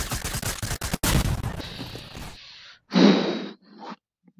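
Gunfire in Fortnite, a quick rattle of shots and sharp cracks up front, then a thinner hiss and a short burst before the sound cuts to near silence.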